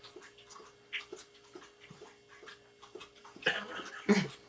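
A dog named Max laps water from a bowl indoors in a quick steady rhythm of small wet clicks, followed by a couple of louder splashy gulps near the end, close and fairly quiet.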